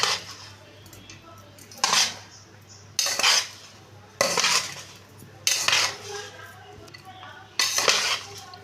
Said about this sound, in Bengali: এবার আমি খুন্তিটা দিয়ে ভালো করে মিশিয়ে নিচ্ছি